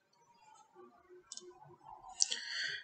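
A computer mouse gives a few faint, close clicks, two sharp ones in quick succession, against a quiet background.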